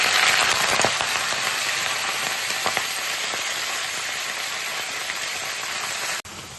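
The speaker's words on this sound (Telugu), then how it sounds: "పాలకూర అయితే ఇలాగ నూనెలో మగ్గించుకోవాలి" Spinach (palak) cooking in a spoonful of oil in a kadai, giving a steady, close hiss and crackle of frying with no voices, running evenly before a brief cutoff near the end.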